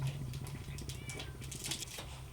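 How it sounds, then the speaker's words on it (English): A cat meows insistently from behind a closed door, several short muffled cries in quick succession over a low steady hum, fairly faint and indoors. "I got a cat yelling at me through the door"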